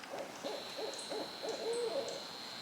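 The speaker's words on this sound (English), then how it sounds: "I don't know if this is a bird or an owl or what." Owl hooting near a park trail, a series of soft, evenly spaced hoots heard alone against a thin high hiss.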